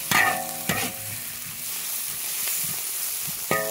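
Onion and small chili peppers are stir-fried in a wok with a steady close sizzle, punctuated by a few sharp scraping clangs of a spatula against the metal.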